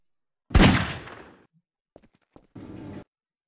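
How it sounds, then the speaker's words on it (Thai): A single loud gunshot in Garry's Mod, fired at a PS Vita, bursts out and rings off over about a second. A few small clicks and a brief noisy rush follow. "เราจะมาลองยิงอีกทีหนึ่งนะครับ"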